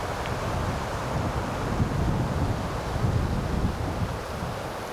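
Steady wind blows outdoors on a summer evening at a wilderness campsite on a Finnish hiking trail, a constant broadband rush with buffeting on the microphone and no voices.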